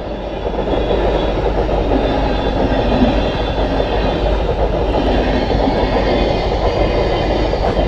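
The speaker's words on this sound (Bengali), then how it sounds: "ট্রেন এত স্পিডে আসছে" A Kolkata local train rushes past at speed close by, a loud steady roar of wheels and rattling cars filling the whole stretch with no voices.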